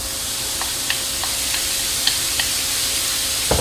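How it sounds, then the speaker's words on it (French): Minced beef browning in a frying pan, a steady loud sizzle with a few small ticks of stirring and a sharper clack near the end, no talking. "Dans la même poêle, je vais ajouter la viande hachée."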